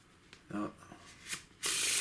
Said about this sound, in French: je mélange réellement les cartes